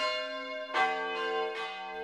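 Church tower bells in Uzès ring out in a few slow, resonant strikes, their long sustained tones overlapping and humming between hits, with no voices.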